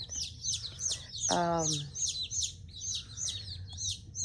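Chicks, including a black laced red Wyandotte, cheep in rapid, repeated high peeps nearby, with a brief lower call partway through and quiet background murmur.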